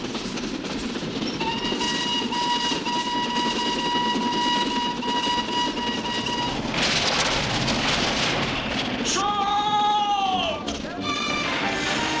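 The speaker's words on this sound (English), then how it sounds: "Stop the train!" A train rolling along a railway in a 1976 period film, a loud continuous rumble with steady whistle-like tones, then harsh screeching metallic squeals as it brakes near the end.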